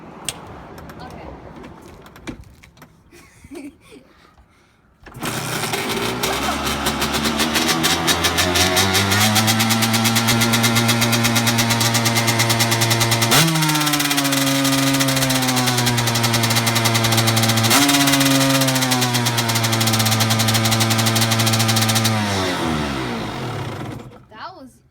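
A two-stroke dirt bike is kicked a few times, then fires up and runs loudly nearby, revving up and down with a buzzing, raspy drone before cutting off; faint talk and kick sounds come before it starts.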